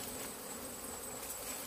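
Wild cavity-nesting honey bees give a dense, continuous buzzing drone that sounds close and steady, with no other sounds present.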